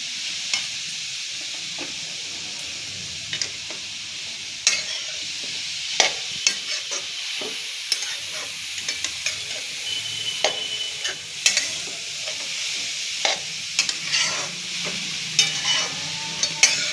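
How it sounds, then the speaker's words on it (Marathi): Carrot halwa is roasted and stirred in ghee, giving a continuous gentle sizzle under repeated close scraping taps of a spoon against the pan. "तर एवढ्या तुपावरच भाजून परतून घेऊया"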